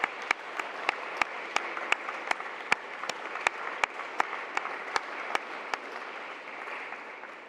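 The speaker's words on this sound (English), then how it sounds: "I want to just lead a quick round of applause for them." Applause for an esports team at a college sports awards ceremony, a smallish audience clapping steadily with sharp, distinct individual claps standing out at regular intervals before it thins toward the end.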